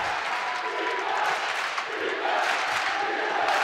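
Basketball arena crowd roaring and applauding after a dunk at a college conference championship game, a dense sustained wall of cheering that swells louder toward the end.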